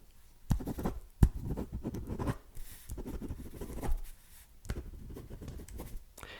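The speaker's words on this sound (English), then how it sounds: "pen writing sounds" A pen scratches across paper in close, quiet strokes, with short scribbling bursts and brief pauses between them and no talking.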